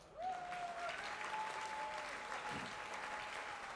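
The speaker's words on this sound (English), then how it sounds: "One more giant round of applause." Steady applause from a crowd at a Hall of Fame induction ceremony, dense clapping throughout, with a few faint whistles above it.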